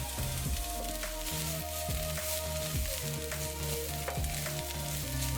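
Onions and cabbage for Ukrainian borscht sauté in a pot with a loud, continuous close sizzle, broken by repeated scraping and tossing sounds.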